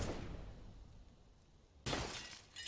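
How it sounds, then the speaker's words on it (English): In a CS:GO match on the map Train, a burst of shattering glass from a gunshot starts loud, fades through a noisy stretch, then a second sharp crash of breaking glass cuts in near the end. "Shooting the glass."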